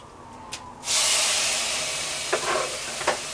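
Oven-roasted tomatoes tipped into a hot soup pot set off a sudden loud, close sizzle that holds steady and slowly fades, with a few soft knocks from the pot near the end.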